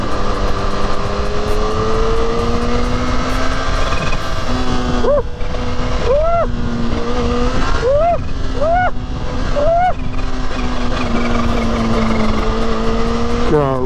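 A Kawasaki Ninja H2 motorcycle roars at steady high revs while riding, with a rapid run of quick-shifter gear changes marked by brief pitch drops and rising engine tones, under loud wind rush.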